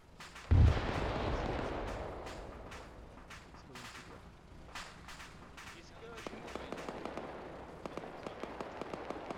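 A loud mortar explosion booms early in a military video game, followed by distant rumbling, scattered cracks of gunfire and faint voices on the radio.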